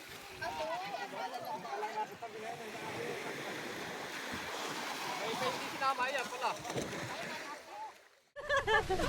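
Sea waves wash on a white-sand beach of Jomalig Island, a steady rushing surf with splashing swells, heard under people talking.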